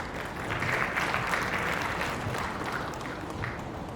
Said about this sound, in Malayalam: ഈ രണ്ട് കലാകാരന്മാർക്കും നിറഞ്ഞ കൈയടി